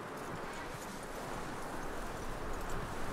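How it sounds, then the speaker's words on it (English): Horse hooves clip-clopping in the video game Red Dead Redemption 2, a steady walking gait heard close and moderately loud over a dense, continuous outdoor ambience for the whole stretch, with no voices. "That looks like a decent horse."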